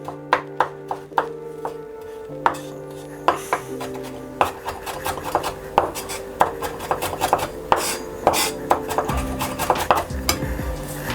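Steady knife chopping of fresh ginger on a cutting board, a quick run of sharp, close taps with brief pauses, a few louder knocks mixed in.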